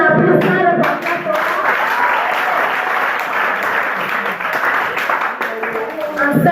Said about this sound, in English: Please stand up and clap